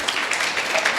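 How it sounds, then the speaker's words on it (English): An audience at a talk applauds, a dense, loud, continuous patter of many hands clapping at once. "we'll give a big round of applause to those great people"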